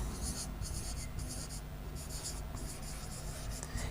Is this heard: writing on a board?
yes